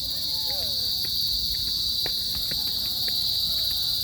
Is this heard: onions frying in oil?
no